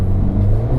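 A Mercedes-AMG A45 S in race mode gives a loud, close, steady low engine roar, a brief sustained rev with rumbling bass and no talk.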